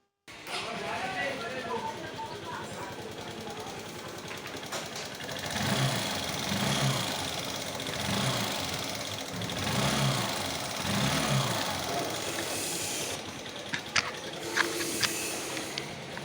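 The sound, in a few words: Honda SP Shine motorcycle engine running, rocker arm noise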